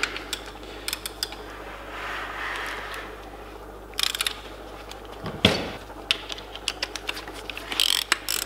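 A ratchet wrench tightening engine bolts on a Renault Megane RS during a rebuild with forged rods and pistons, giving repeated rapid clicking bursts up close with some metallic knocks in between.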